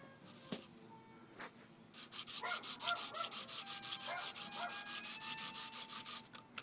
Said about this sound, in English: Yeah, I got some 60 grit here.